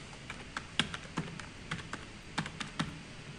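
A password is typed on a computer keyboard, with close, crisp key clicks coming in uneven bursts and short pauses and no talking.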